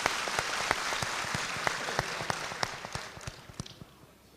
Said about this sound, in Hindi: मैं चाहूंगा उनका इस्तकबाल जोरदार तालियों से आप करें।